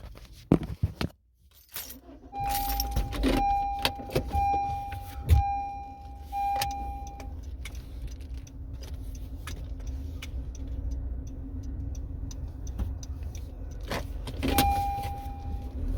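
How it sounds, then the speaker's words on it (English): A parked car is moved out of the sun and eased a short way, its engine running low and steady throughout, with faint clicks, a brief chime and mechanical ticks over the idle, close by and with no talk. "Let me move this car out of the sun."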